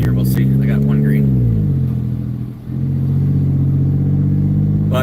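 A C6 car engine with a cut-off exhaust runs loud and throaty, revving up, then dipping briefly before settling back into a heavy, steady drone, with a voice speaking over the engine at the start.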